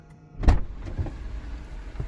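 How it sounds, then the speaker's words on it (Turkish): Electric side mirrors on a Honda Civic FC5 folding in after the car locks, a close motor whir starting with a sharp clunk, then fading as it runs for about a second. "Kilitlendi, ayna katlandı."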